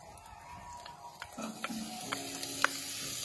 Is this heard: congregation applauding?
no